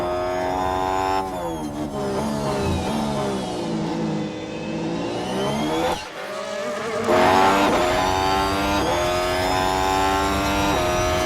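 An F1 car in the F1 Manager 2023 game runs a flying lap at full throttle, its engine whine loud and close. The pitch rises and falls through gear changes and corners, with a brief dip around a braking point before it climbs again.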